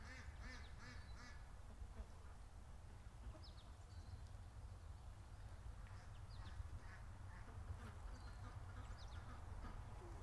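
Ducks quack faintly and at a distance beside a creek, scattered calls rising over a steady low outdoor rumble.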